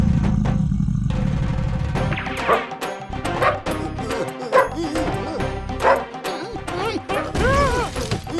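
A mad dog in a cartoon barks and yips loudly up close in a string of excited, uneven bursts, following a heavy rumbling crash, with voices mixed in.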